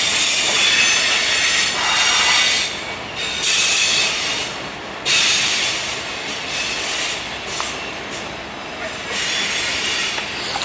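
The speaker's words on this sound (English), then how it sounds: "Sometimes it is really cool to live by the train track." A train rolls past on the tracks, loud rumbling with repeated high metallic wheel squeals rising and falling as the cars go by.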